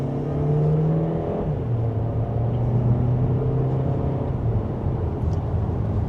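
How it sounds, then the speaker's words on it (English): A 2025 VW Taos SEL compact SUV accelerating in sport mode in second gear, a steady droning engine rumble with a rising whir heard from inside the cabin, continuous and fairly loud. "And with a smooth acceleration"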